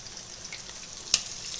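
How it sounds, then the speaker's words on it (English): Chicken pieces frying in hot oil in a home kitchen, giving a steady, close, hissing sizzle broken by one sharp pop near the end. "it is frying up a storm"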